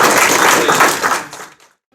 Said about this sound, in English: I want you guys to help just give a round of applause for him